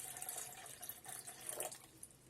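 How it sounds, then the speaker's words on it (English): Water poured into an electric kettle for making veggie pasta, a quiet steady splashing trickle lasting a couple of seconds. "First of all, add some water"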